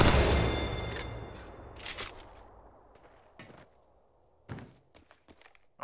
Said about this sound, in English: Try the R301 and shoot him down.